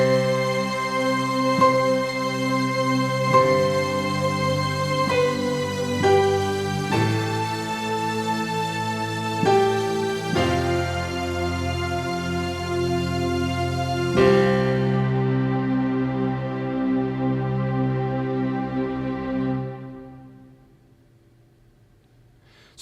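Layered synth string patches on a keyboard play a slow progression of sustained, rich chords for about fifteen seconds, then hold a final chord that fades away gradually, with no voices.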